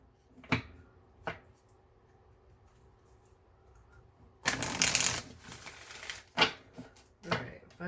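A Moonology oracle card deck is shuffled in one brisk riffling burst, with scattered single card taps and flicks before and after in a quiet room.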